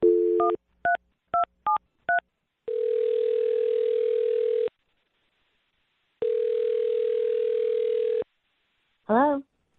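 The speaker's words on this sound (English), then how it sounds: "I'm going to dial her phone number right now." A handset plays a quick series of dialing tones, then two long steady ringing tones with a pause between, ending in a brief rising electronic chirp.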